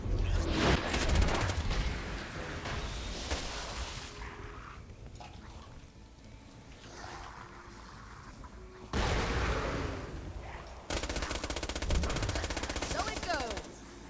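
A Hyperion SMG in Borderlands fires during the Wattle Gobbler boss fight in rapid, chattering bursts at the start and again near the end, with a quieter stretch between and a voice speaking over parts.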